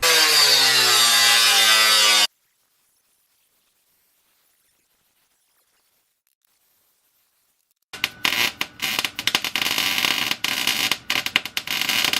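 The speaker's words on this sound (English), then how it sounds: "I'm about to cut it off with this cut-off wheel" A cut-off wheel grinding through the metal floor of a ramp truck: a loud, dense abrasive whine for about two seconds, a long silence, then harsh broken bursts of cutting with stops and restarts.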